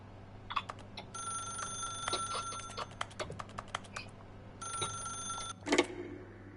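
A telephone rings in The Stanley Parable, two long trilling electronic bursts separated by a pause, mixed with quick keyboard-like clicks in a quiet room.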